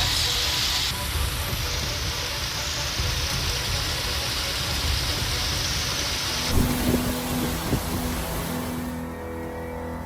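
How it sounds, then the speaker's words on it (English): A brutal hailstorm pounds yards, cars and streets in northern New York, a dense, steady roar of ice striking surfaces with a shift in tone partway through, no voices. "A brutal hailstorm hammered northern New York"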